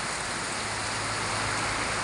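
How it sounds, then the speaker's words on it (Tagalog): Heavy rain pours down steadily on a November day in the Philippines, a dense, loud, continuous roar of water with no break and no voices. "Look, heavy downfall of rain, my friends."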